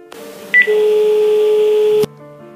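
Telephone line tones after a caller hangs up, a sharp brief beep followed by a loud steady electronic tone that cuts off abruptly, then a faint lower tone remains.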